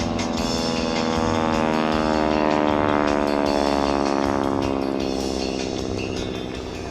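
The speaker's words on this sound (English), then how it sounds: "hear that engine, hear those propellers, the tips of those propellers, making that magic sound that we all know and love" A North American SNJ Texan warplane at the 2024 Bethpage Air Show over Jones Beach roars past, its radial engine and propeller tips producing a loud, sustained buzzing drone that swells toward the middle of the pass, then slowly fades.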